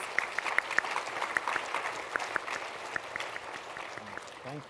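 Audience applause at a keynote response panel, a steady patter of clapping hands from a crowd in a hall, moderately loud and continuous, tapering near the end.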